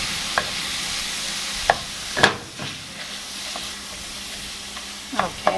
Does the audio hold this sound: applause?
no